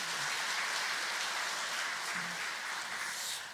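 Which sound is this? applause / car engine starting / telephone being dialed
applause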